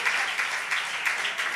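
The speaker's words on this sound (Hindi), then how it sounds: "जोरदार तालियां इनके सम्मान में" An audience claps for about a second and a half in steady, dense applause with rhythmic swells. The sound is moderately distant and fairly faint, and no voices are heard.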